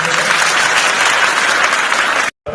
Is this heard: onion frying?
no